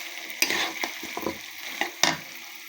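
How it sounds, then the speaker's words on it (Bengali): Chicken being stirred and fried in a pan with fried potatoes just added, with two sharp scraping stirs and a steady sizzle between them, close and fairly quiet, no speech. "মুরগির মাংস ভালোভাবে কষানোর পর এবার দিয়ে দিলাম ভাজা আলুগুলো।"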